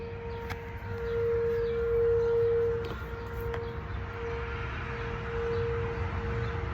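A tornado warning siren on Chicago's Northwest Side, Norwood Park Township, wails as one steady, loud tone throughout, with a faint low rumble beneath it.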